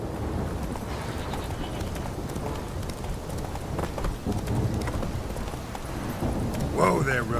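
Hoofbeats of the horse Roach in the Witcher 3 video game, a steady clip-clop during a rainy downpour with rain and distant thunder underneath, fairly close and continuous.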